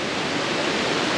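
Mae Ya Waterfall in a Chiang Mai national park roars with dense, steady rushing water, loud and unbroken from close by.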